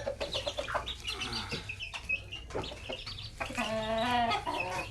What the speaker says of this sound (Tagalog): Oh, yun ang mga sisiw, oh.